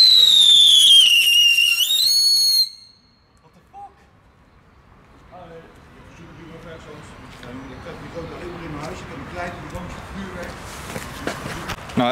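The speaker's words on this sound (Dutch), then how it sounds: "Wat een ding, categorie 1 vuurwerk, jongens." Category 1 consumer fireworks go off. A loud whistling whine falls in pitch for a couple of seconds, then stops abruptly. Quiet crackles and scattered pops follow, with people talking faintly in the background.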